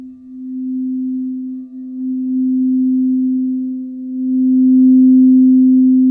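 A single sustained musical note, a C, played for sound healing, holds as one steady, smooth tone for about six seconds, swelling slightly louder toward the end, with no speech.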